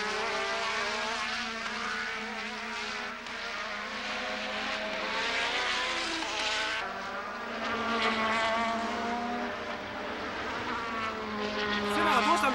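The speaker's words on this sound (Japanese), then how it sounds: "ここで一気に加速してネルソン・ピケがインに飛び込みます" A Williams Formula One race car accelerating hard at the 1987 Portuguese Grand Prix, its high engine note rising steadily and loud throughout, heard under a continuous commentator's voice.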